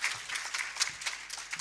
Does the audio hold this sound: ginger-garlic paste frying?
no